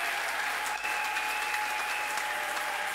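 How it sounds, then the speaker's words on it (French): A church congregation applauds and cheers in praise of God, sustained dense clapping filling the room steadily throughout, with a few voices rising under it. "quelqu'un peut encore acclamer pour le Seigneur"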